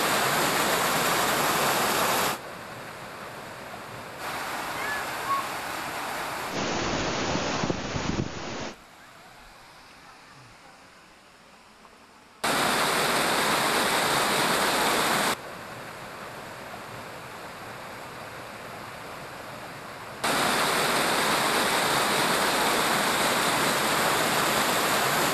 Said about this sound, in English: Ready to see the big waterfall then?